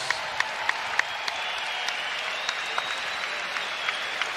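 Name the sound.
crowd applause for the boxers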